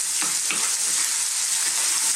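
Fish sizzling steadily in oil over lively heat for an Indian fish fry with hot chilli masala, a dense continuous crackle with a few soft stirring scrapes near the pan.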